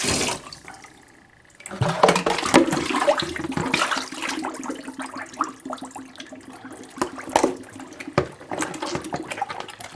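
Tap water runs and splashes steadily into the cavity of a whole raw chicken held under a kitchen faucet, a continuous close gushing that swells after a brief quieter start.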